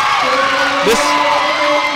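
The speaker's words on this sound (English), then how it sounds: "The cheering section here at Slidell is electric" A lively student cheering section at a Slidell High School volleyball match against Northshore keeps up a sustained roar of crowd noise with shouts and a rising whoop, and commentary carries over it.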